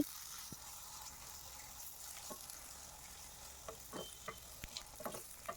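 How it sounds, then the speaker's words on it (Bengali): Beaten eggs frying in a pan with a small amount of oil, a steady close sizzle with scattered sharp crackles and pops throughout, no voices. "আন্ডা ভাজবো, আন্ডাকে ফেটে করে রেখে দিয়েছি।"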